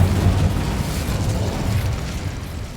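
A loud, sustained whooshing burst of the Incendio fire spell cast in the Hogwarts Legacy video game, a dense roaring rush that stays steady for several seconds.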